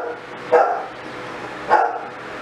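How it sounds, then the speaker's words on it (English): A dog barks twice, close and fairly loud, two sharp single barks about a second apart over a quiet background. "Sorry for my dog barking."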